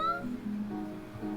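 In the video game Strange Telephone, a cat meows in a short series of soft, tonal mews, fairly close and clear, with a quiet electronic background beneath.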